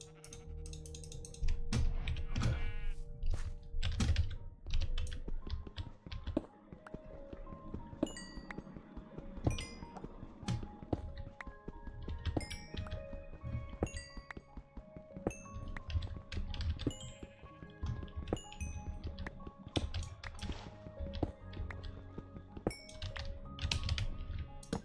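Rapid clattering keystrokes on a large computer keyboard during a Minecraft play session, irregular bursts of clicks close by, with faint game sounds and bleating sheep in the background.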